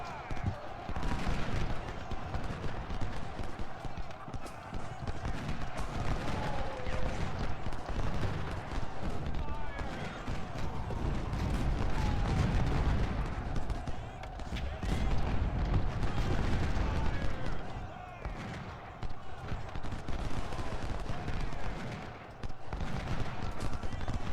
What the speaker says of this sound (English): we've managed to concentrate fire on that brigade